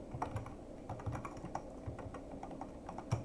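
Code being typed on a computer keyboard, with rapid, uneven, soft key clicks up close and quiet throughout, and no talking.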